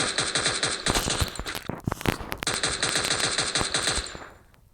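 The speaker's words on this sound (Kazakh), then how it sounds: "Ал көріп тұрса онда атысымызды бастайық." Rapid automatic gunfire from the Free Fire battle royale game, sustained bursts of dense shots filling nearly five seconds with a brief lull midway before fading out at the end.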